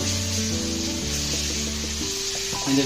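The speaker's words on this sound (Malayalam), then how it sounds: "ഇഞ്ചി വെള്ളുള്ളി പേസ്റ്റ് ഉണ്ട് കേട്ടോ അപ്പൊ അത് അതിലേക്ക് ഇട്ടിട്ടുണ്ട് എണ്ണയിലേക്ക്" Ginger garlic paste sizzles and crackles in hot oil, a steady, close frying hiss with a faint humming tone underneath.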